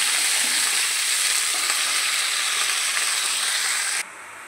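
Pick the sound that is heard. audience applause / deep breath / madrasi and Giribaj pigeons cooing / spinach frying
spinach frying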